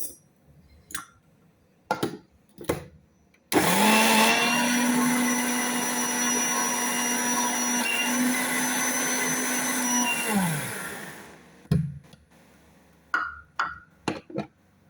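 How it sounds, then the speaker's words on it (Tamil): A mixer grinder grinds apple for juice, giving a loud, steady motor whir for about seven seconds that starts and stops abruptly. Sharp knocks and clicks from handling the jar come before and after. "இன்னும் கொஞ்சம் அரைக்கணும்"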